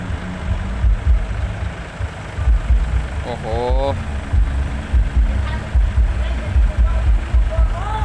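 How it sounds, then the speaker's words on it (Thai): A farm tractor's engine keeps running at a monastery construction site during a merit-making ceremony, a low, pulsing idle rumble throughout, with people talking and exclaiming over it. "นี่รถไถยังติดนะครับ"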